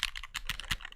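Fingers type quickly on a Keychron Q4 mechanical keyboard modded with Leukoplast tape, giving a close run of crisp, muted keystroke clacks in an uneven rhythm.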